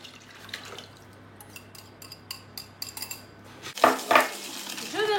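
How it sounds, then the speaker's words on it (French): Sugar beaten with a utensil into melted butter in a mixing bowl for a chocolate birthday cake: light clinks at first, then a louder burst of scraping and tapping against the bowl near the end, with no talking. "Je vais battre le sucre avec le beurre fondu."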